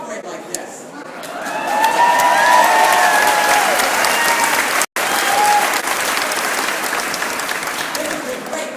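A large crowd at a pro-life rally at the Missouri state capitol breaks into loud, sustained applause with scattered cheers, swelling and holding steady across the whole stretch.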